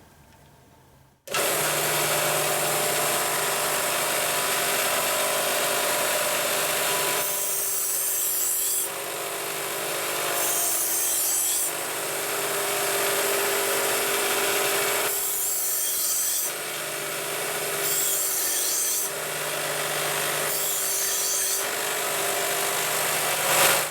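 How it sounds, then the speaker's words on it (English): A belt grinder with heavy-grit belt reshapes a broken knife tip and puts a new edge on the blade. The abrasive hiss and rasp run loud and continuous, swelling and dipping as the blade passes on and off the belt, with no speech. "As we put a new edge on the blade, you have to be very careful as you come up and off of the belt, not to linger on the point."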